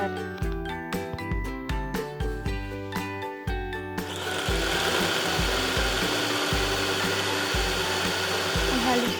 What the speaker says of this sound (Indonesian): dilakukan penghalusan bahan-bahan yang telah dipotong-potong dengan cara memasukkan bahan yang telah dipotong tersebut ke dalam chopper